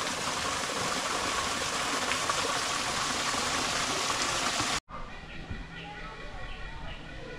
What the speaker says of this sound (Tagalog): Kasi dito, may waterfalls.